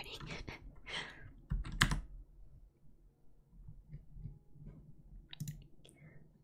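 Clicky computer keyboard typing, a quick burst of close taps at the start, then sparse keystrokes with low background noise and a few soft clicks near the end.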